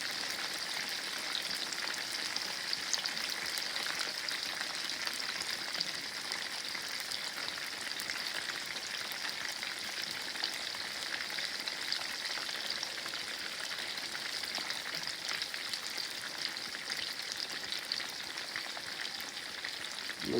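Meatballs frying in a pan give off a steady, even sizzle with a fine crackling hiss. It is moderately close and continuous, with no talking.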